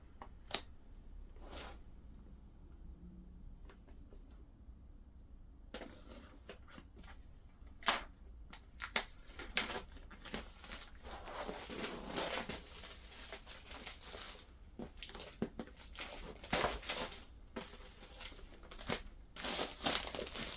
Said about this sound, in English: Now, I am going to unbox this for you guys and we'll go through it together. So, let's cut this open.